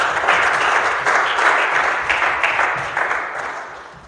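A church congregation applauding during a Christmas Day service, a dense, continuous wash of many hands clapping together that holds steady and then tapers off slightly toward the end, with no clear talking.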